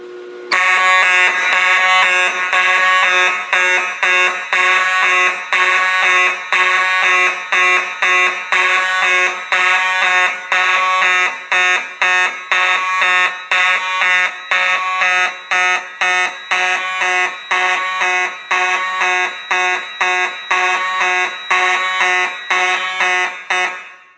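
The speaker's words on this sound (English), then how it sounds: "system test with the ADT Unimode 10UD fire alarm control system" An ADT Unimode 10UD fire alarm control system runs a test with two horns sounding together. The blare is loud and close, pulsing in a steady, rapid rhythm without a break, with no voices.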